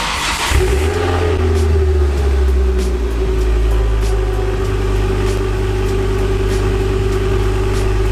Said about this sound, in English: let's get a start of the fantastic exhaust note from that 5-pot